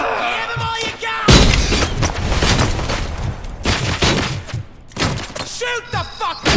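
Gunfire in the video game Robocop: Rogue City: loud, dense bursts of shots and heavy booms rolling almost continuously, with shouted voices mixed in among the blasts.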